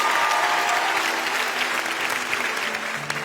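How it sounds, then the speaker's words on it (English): Loud, steady applause from a large stage-show audience as a volunteer walks up, a thick continuous clapping wash with faint voices and a tone underneath. "Would everybody here give Annika a huge round of applause as she comes on stage?"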